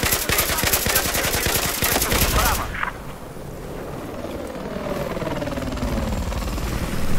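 Helicopter in a multiplayer shooter video game, a loud rotor chop under heavy gunfire for about two and a half seconds, then fading to a distant low whir and rumble.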